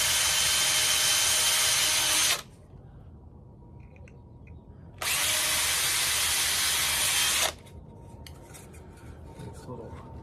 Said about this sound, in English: 16th inch bit, and I'm chasing the threads, or the holes I should say, through the boards here.